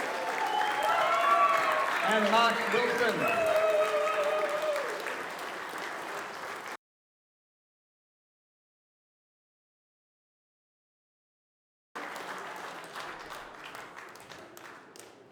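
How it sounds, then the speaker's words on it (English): Crowd at a 2022 boxing hall of fame induction claps steadily while someone speaks over it, then the sound cuts out completely before the applause resumes, lighter and more scattered. "Keep clapping, it gets weird if you're not clapping."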